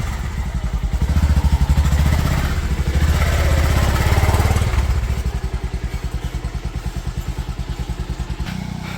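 A motorcycle engine starts up and runs, loud and close, rising into a rough revving roar and then settling into a steady, throbbing idle for the rest of the clip.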